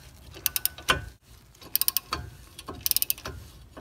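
Ratchet wrench clicking in quick bursts while removing the 17mm brake caliper bracket bolts on a Toyota Camry or Corolla, several close, sharp runs of pawl clicks separated by brief pauses.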